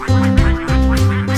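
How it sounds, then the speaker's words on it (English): Ducks quack loudly and close by in a quick series of about four nasal calls, each a short buzzy burst, with no voices over them. "Ducks."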